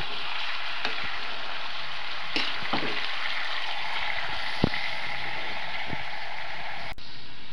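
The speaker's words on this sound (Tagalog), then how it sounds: "Gisahin muna natin ang ating pork." Pork sautéing with garlic in a pan gives a loud, steady close hiss of frying, broken by a few sharp utensil clicks and scrapes, no one speaking.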